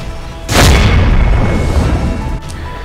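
Firecrackers set off by BJP workers celebrating the Gujarat election win in Gorakhpur: a sudden loud blast followed by a dense, rumbling crackle that stays strong for about two seconds, with no talking.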